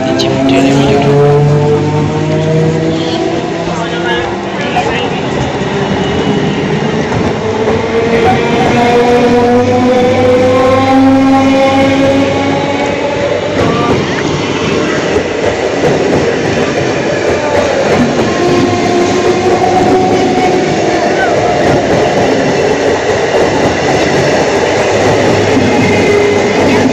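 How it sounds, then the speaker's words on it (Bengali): A passenger train rolls past close by at Nabadwip, a steady loud rumble with horn-like tonal bands, and background voices run underneath throughout. "আর আমাদের সামনে দিয়ে আমাদের ট্রেনটা যাচ্ছিল।"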